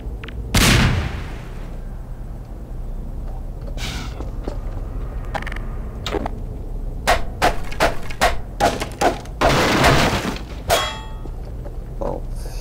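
In Half-Life 2, a loud grenade blast opens the scene, followed by a stretch of creaking, clanking mechanisms and bursts of gunfire, with a second heavy explosion near the end.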